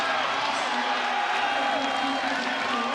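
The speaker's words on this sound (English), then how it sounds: "the crowd has been, the last couple of minutes, chanting for the appearance of Brock Ostrom" Crowd in a college basketball arena, Kent State at St. Bonaventure, giving a steady, dense roar of voices that stays level throughout, heard from a distance, with no single chant standing out.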